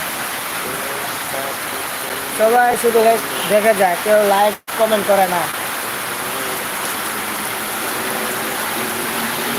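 Steady rain falls in a continuous, even hiss throughout, while a person talks over it for a few seconds near the middle.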